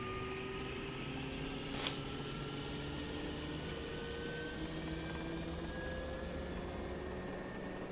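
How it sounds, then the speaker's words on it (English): A Beechcraft Duke's turboprop engine idles steadily just after start, a continuous close whine with rising tonal lines over a broad rushing roar, holding constant throughout with no voices. "And engine should be stable any second now."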